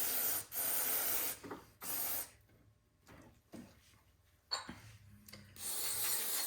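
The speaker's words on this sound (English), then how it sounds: "Spray the bowl out." Carb cleaner sprayed in several loud hissing bursts into the carburetor bowl of a Yard Machines single-stage snowblower's small engine, with quieter handling noises between the sprays.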